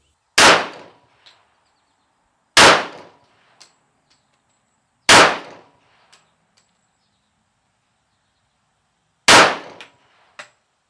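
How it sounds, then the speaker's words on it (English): Four loud, sharp gunshots from a .45 caliber 1911 pistol, fired singly at intervals of a few seconds, each followed by a faint metallic clink of brass; no talking. "go put a couple more rounds through the 45"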